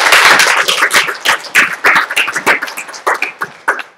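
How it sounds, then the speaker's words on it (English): Audience applause for a volunteer at a Texas State CEO presentation: a smaller group claps in distinct, fairly close bursts that thin out and become more scattered toward the end. "Round of applause for our brave volunteer."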